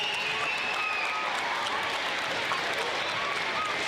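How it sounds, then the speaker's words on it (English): An audience at a school awards ceremony gives a class a round of applause, dense, even clapping with faint crowd noise, sustained throughout. "one more big round of applause for Mrs."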